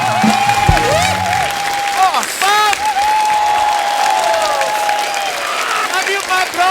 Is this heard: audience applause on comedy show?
yes